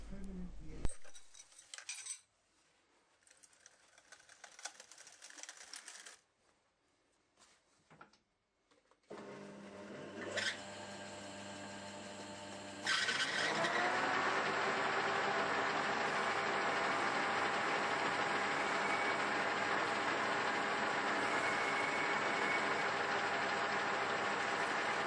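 Lathe machining a bearing housing for a Cyclemaster restoration: intermittent clinks and faint whirring at first, then a motor spins up into a steady loud machining drone that continues to the end.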